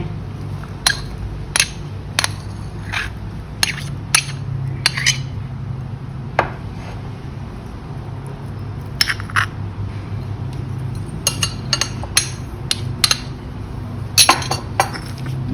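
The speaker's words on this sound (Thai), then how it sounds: "แล้วก็โขลกให้แหลกโขลกให้ละเอียด" Garlic and shallots pounded with a pestle in a mortar for a Thai seafood dipping sauce, giving irregular sharp clinking knocks up close over a low steady background hum.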